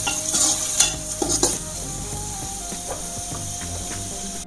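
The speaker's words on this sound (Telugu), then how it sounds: "సో ఇవి కొంచెం ఫ్రై అవ్వనిద్దాం" Onions with cumin and black pepper frying in a pan for a Rayalaseema-style chicken curry, a steady close sizzle with a spoon stirring and scraping now and then, louder early on, no talking.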